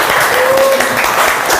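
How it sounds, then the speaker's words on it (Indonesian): Brief burst of classroom applause from students, dense and close, lasting under two seconds. "Tepuk tangan untuk Pak."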